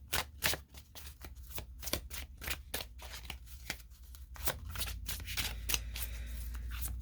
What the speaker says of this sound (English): 2 more shuffles here